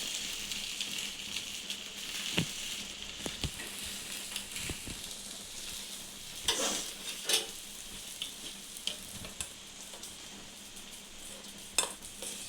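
Omelette sizzling and frying in a pan after being flipped, a steady bright hiss broken by scattered clinks and scrapes of a utensil against the pan, with no talking.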